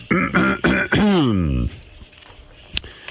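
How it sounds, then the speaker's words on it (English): A person clears their throat loudly and close up with a few rough, voiced bursts followed by a falling grunt, then quieter breathing and small noises. "Have to clear my throat."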